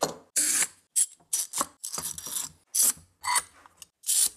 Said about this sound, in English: I'm gonna go ahead and add a couple pieces of plywood here, and I'll clamp to that.